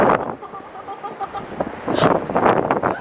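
Wind gusts roar and buffet the microphone on an outdoor deck 88 floors up a Melbourne skyscraper, loud and continuous, with faint voices in the background.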